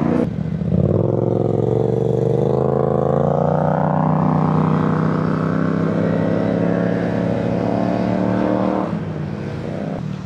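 Upgraded Honda Giorno scooter engine pulling hard while riding, a loud close buzzing drone whose pitch climbs steadily through acceleration for several seconds before easing off.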